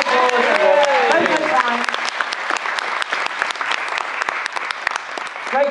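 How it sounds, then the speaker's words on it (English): An audience at a talent show in Wellingborough breaks into loud, sustained clapping that tapers off slightly, while a host speaks over the start of it. "give a big round of applause"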